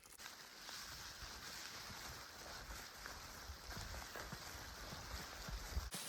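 Rain falls steadily at a campsite during a Centennial Trail thru-hike, an even, soft hiss of drops on surfaces with occasional louder taps, continuous and fairly faint throughout.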